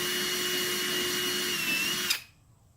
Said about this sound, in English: Because this drill bit will do more damage than that.